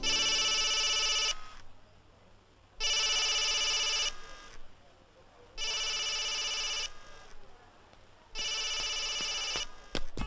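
A telephone rings in four evenly spaced bursts of bright electronic trilling, fairly close and clear with quiet gaps between rings.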